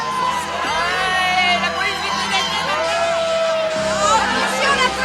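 A large cartoon crowd chatters and cheers in a loud, lively hubbub, with overlapping shouts and whoops rising and falling over steady babble and a low background tone.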